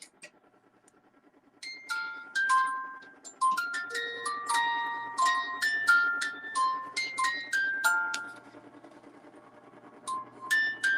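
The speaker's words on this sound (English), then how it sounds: "Jingle bells." A Christmas tree decoration plays a bright, chiming electronic Jingle Bells melody, the tune starting after a quiet second or two and running on steadily at moderate volume, with faint speech in the background.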